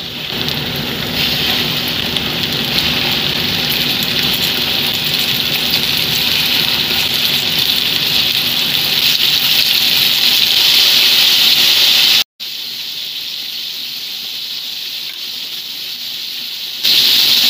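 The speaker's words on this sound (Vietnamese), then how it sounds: "dầu mình đã nóng, mình cho phần chuối vô nha" Flour-coated banana pieces fry in hot oil in a pan, giving a loud, continuous rain-like sizzle that holds steady, drops out briefly, then resumes alone.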